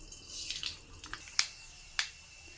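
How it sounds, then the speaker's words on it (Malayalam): Mustard seeds hit hot oil in a pan, giving a faint sizzle with scattered soft crackles and two sharp pops. "ചൂടായ എണ്ണ അപ്പോൾ നമുക്ക് കടുകിട്ട് കൊടുക്കാം"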